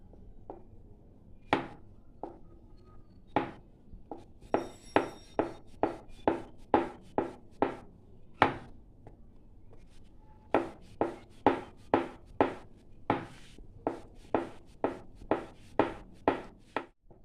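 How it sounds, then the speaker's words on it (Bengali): Thin dough discs rolled out with dry flour for goja, the rolling pin knocking on the board in irregular bursts of sharp, close taps with short pauses between strokes. "এবার আমি একটু শুকনো ময়দা দিয়ে বেলে নেব"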